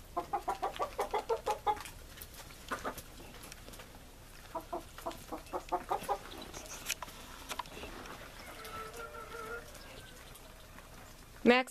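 A flock of young Orloff hens clucks in quick rhythmic bursts, close by. The clucking repeats in clusters and is mixed with a few softer, drawn-out calls and light shuffling.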